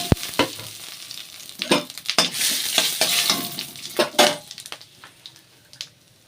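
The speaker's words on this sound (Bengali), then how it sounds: "এবার আমি ফোড়নে দেব তেজপাতা, গোটা জিরে, গোটা লবঙ্গ," Whole spices (bay leaf, cumin, cloves, cinnamon, cardamom) sizzle in hot oil for a Bengali tempering, a steady frying hiss broken by several sharp spoon scrapes and stirs against the pan, close and fairly loud with no talking.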